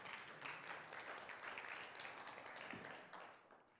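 Church congregation applauding together, a dense, steady wash of clapping that holds for several seconds before tapering slightly near the end.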